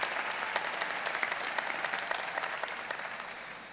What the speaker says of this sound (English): A big round of applause for our staff and President Aquino Diaz.